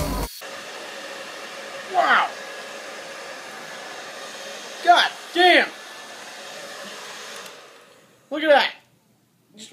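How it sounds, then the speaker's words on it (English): A hair dryer blows steadily at close range, heating the tail of a Bandai Godzilla figure, with its whooshing hum interrupted by a few short bursts of talk before cutting out near the end. "We're going to get it heated up. We're going to heat up that tail."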